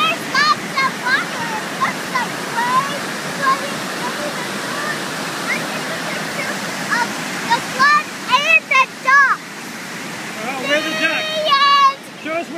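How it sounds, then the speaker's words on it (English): The Reedy River in spring flood roars with a steady, loud rush of fast-moving water throughout, while a child and an adult talk over it and a few bird chirps break through near the end. "There's lots of water. Lots of waves."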